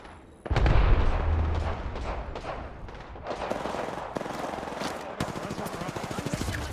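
Kraber sniper rifle fire in a battle-royale shooter game: heavy booming shots and a dense spread of other gunfire and impacts, loud and near, with faint speech mixed in.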